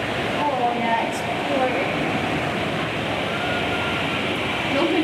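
Heavy rain pours steadily during a Caribbean thunderstorm at sea, a broad continuous hiss of water that stays even and loud throughout.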